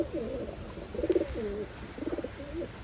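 A female Taiwan pigeon coos in three low, rolling bursts close to the microphone, with short pauses between them and faint background hiss.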